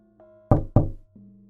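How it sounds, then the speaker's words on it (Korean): Two sharp, heavy knocks on a door ring out close together as a horror radio story sound effect, set against a faint low electronic drone. "슬슬 지겨워질 무렵 누군가가 문을 두드렸다."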